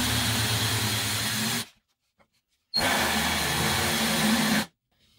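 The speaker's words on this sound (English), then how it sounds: "go ahead and drill out all 4 of these screws" Power drill boring out four screws with a DeWalt screw extractor bit, two loud sustained whirring bursts of grinding with a short quiet pause between them, no talk.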